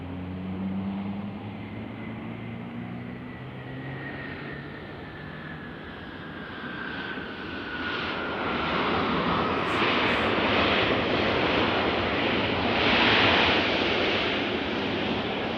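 An airliner in Republic livery arrives at Nashville International Airport, its engine whine sliding slowly downward while a broad, rushing roar grows louder and nearer through the second half.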